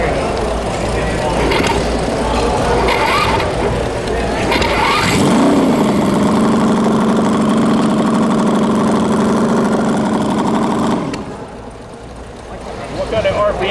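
A high-revving racing engine cranks and catches, then settles into a loud, steady idle before cutting off abruptly; voices can be heard faintly in the background.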